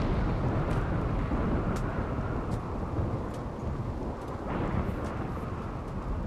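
A thunderstorm rumbles in Rimworld, a low continuous roar of thunder and rain with a few faint crackling flashes, steady and moderately quiet throughout.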